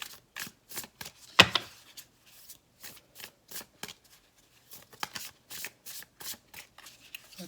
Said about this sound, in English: let's go ahead and just pull a card